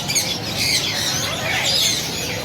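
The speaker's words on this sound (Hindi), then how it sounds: "ये भी वर्ष देखे ग्रे रिंगनेट है, ये भी काफ़ी रेयर है" Grey ringneck parakeet at a Karachi bird market, calling in a busy chorus of chirps and squawks from many caged birds, steady and fairly loud throughout.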